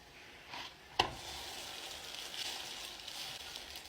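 Stuffed bread rolls sizzle and fry in a pan, a steady soft crackling hiss with one sharp knock near the start, without talk.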